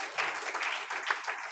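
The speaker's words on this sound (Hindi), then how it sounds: "जोरदार ताली बजाकर" A church congregation claps together in a sustained, fairly even burst of applause that sounds somewhat distant and soft.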